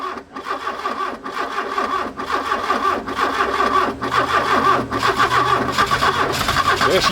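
A Porsche 924 Turbo engine catches and keeps running, a steady near mid-pitched churn with a rough, uneven rhythm and brief dips, loud and alone without talk.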